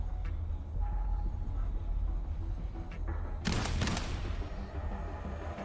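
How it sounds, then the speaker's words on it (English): Gunfire in the Wuthering Waves video game, a short loud burst of shots cutting through steady game ambience partway through, near and alone with no talk. "صدا شلیک بود"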